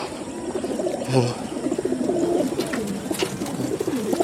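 Pigeons coo softly in repeated low murmurs amid outdoor background noise, with faint voices nearby.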